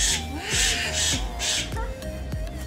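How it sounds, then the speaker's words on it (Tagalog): Parrot at a forest park in Negros vocalising to itself, a run of harsh caws and squawks with sharp downward calls, close and fairly loud. "this is actually the first time a parrot could actually self-talk itself"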